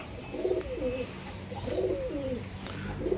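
Pigeons with their 15-day-old chicks cooing, a soft rolling coo repeated about three times at an even pace, fairly close over a faint background hiss.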